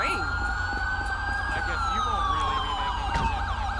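A police car siren in GTA V with the LSPDFR mod wails loudly and continuously in a rising and falling tone, with engine rumble beneath it.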